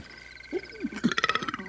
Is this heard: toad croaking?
yes